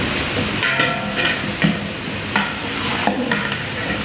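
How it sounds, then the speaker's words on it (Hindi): Chicken pieces fry in a pot for a large batch of yakhni pulao, producing a dense, continuous sizzle up close, broken by the periodic scrape and clatter of a spoon stirring. "चिकन का कलर तब्दील होने तक इसको फ्राई करेंगे।"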